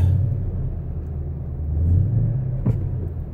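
Ford Mustang engine running in sport mode, a steady low rumble from inside the car that swells slightly midway, with a brief sharp knock near the end and no talking.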